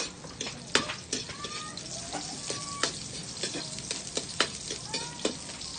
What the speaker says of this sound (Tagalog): Bago pa ito mag-golden brown, lalagyan natin yung sibuyas para kasabay sila.